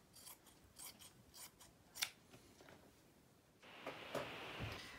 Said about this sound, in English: I'm just going to cut this off from the dress